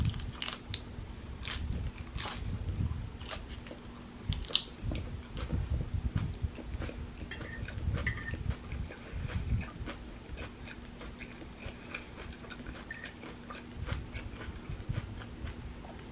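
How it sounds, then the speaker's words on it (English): Crisp, crunchy bites into lettuce in a vegan Waldorf chickpea salad, close up, with repeated sharp crunches and wet chewing spread across the stretch, no talk. "I don't know if you heard that last bite, but that lettuce was like super crunchy."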